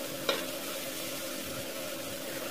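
Garlic and ginger paste fry in a pan while being stirred, cooking for a ridge gourd and chana dal curry. A soft, steady sizzle runs throughout, with one brief utensil clink near the start and no talk.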